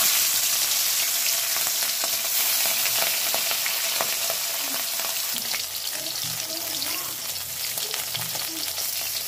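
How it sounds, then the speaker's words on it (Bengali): Fish sizzles and spatters loudly in hot oil, a dense crackling hiss with scattered pops and a few soft stirring clinks. "তেলটা গরম হয়ে গেছে, আমি মাছ দুটোকে ভেজে নেব"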